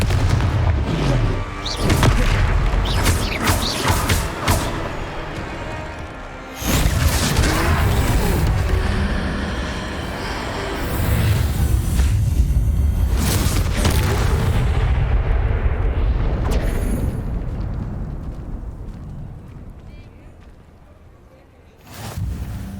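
Confringo spell blasts in Hogwarts Legacy burst loudly in quick succession, booming and crashing over dense game music and effects, with a voice shouting the spell name between hits and a brief lull near the middle.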